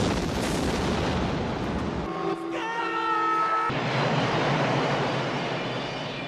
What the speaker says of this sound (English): I'm talking 1980s frivolous, unnecessary explosions.